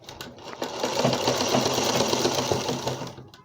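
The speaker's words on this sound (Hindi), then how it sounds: "अभी ये कमर के हिस्से की सिलाई लग रही" A sewing machine runs steadily, stitching the waist seam of a baby frock, a continuous close mechanical whir that starts, holds for about three seconds and stops.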